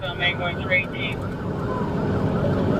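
A police car siren wails through a replayed chase recording with engine and road noise, heard at moderate distance while a radio dispatch voice speaks over it.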